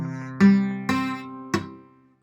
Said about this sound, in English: Otherwise, you will mute the strings and you're going to get a sound like this.